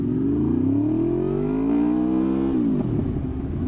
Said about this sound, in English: I can only imagine what's going to happen if I go full throttle from the second gear, third, fourth, fifth, using the quick shifter.